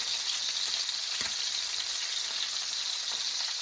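Brined steaks sizzle loudly in an oiled frying pan, a dense, steady hiss of frying that fills the whole span with no voices over it.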